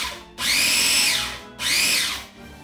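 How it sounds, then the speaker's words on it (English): Food processor blending ingredients into fine, sand-like crumbs, two loud whirring bursts of the motor separated by a short pause, close and with no talking. "You just want to blend it, process it until it's like fine crumbs"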